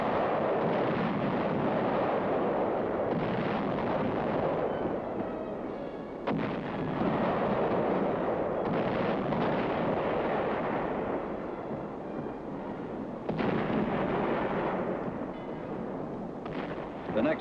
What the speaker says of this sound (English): our artillery pounded and repounded the enemy defenses guarding San Pietro